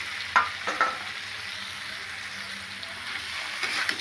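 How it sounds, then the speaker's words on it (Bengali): Bitter gourd and potato pieces with blackened spices being stirred in a sizzling pan for a Bengali aloo karela chorchori, with a steady frying hiss and a few scraping clicks of the spatula, no voices. "করলা আলু সব দিয়ে একটু ভালো করে একটু নাড়ব"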